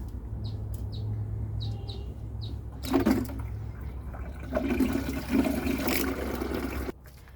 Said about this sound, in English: I'm just going to top that with the rainwater.